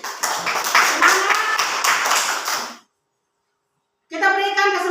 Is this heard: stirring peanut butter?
no